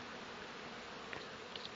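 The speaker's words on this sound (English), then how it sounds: "you can see that we are surrounded by bees who are cleaning up this honey" A swarm of honey bees cleans spilled honey off a workbench and tools, producing a continuous, even buzzing hum that stays faint and fills the background.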